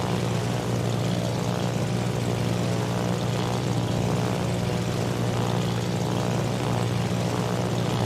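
Early-war carrier aircraft from the Ranger droning with propellers in World of Warships, a steady, continuous hum running unbroken and fairly loud for the whole stretch.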